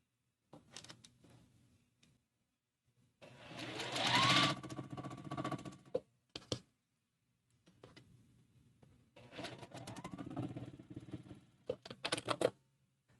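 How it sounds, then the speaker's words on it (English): A sewing machine chain-stitches quilt block fabric pieces together in two sustained runs of close, steady whirring and needle chatter, separated by a pause with a few short clicks and handling sounds. "I'm going to my machine and I'm going to chain stitch all 3 of these pieces together."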